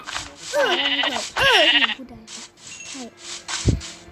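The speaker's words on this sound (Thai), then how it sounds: "แกะแกะแกะ" Sheep in a survival video game bleat in several loud, wavering calls early on, followed by shorter game sound effects and a brief low thump, with a player's voice mixed in.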